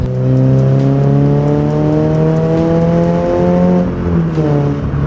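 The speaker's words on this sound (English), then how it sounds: "you can probably hear the exhaust" Deep, throaty drone of a lowered 2022 Subaru BRZ sports car's aftermarket exhaust idling and revving gently nearby, loud and steady with a low rumble.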